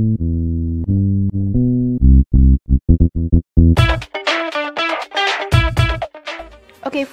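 FL Studio Mobile pick bass line: sustained low notes giving way to short staccato stabs, loud and alone at first, before a brighter full mix joins in over the bass.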